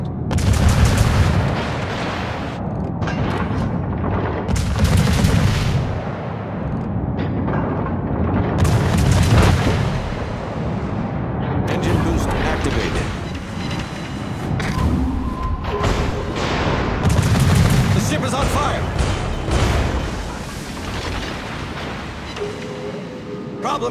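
Naval guns in a warship video game fire over and over: heavy booms and deep thuds follow one another, some overlapping into rumbling roars, loud and continuous over a churning background.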